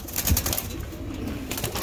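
Fancy spangle-coloured pigeons kept by a seller give a couple of soft, close coos and a brief rustle of wings in a quiet room.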